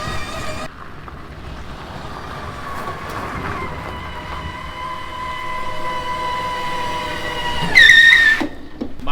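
A two-speed company van pulling along in low speed makes a loud, close, steady drivetrain drone with a whining tone that climbs and swells before a brief squeal near the end.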